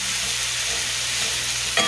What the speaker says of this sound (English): So I'm going to go ahead and just stir this up a little.